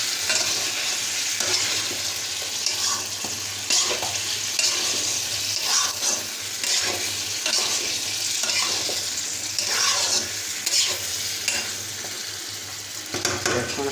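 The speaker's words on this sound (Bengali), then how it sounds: "দেখেন আমার তরকারি অনেক কষিয়ে গেছে" Curry fries in a pan with a constant loud sizzle while a utensil stirs and scrapes through it in rhythmic strokes, heard alone and close throughout.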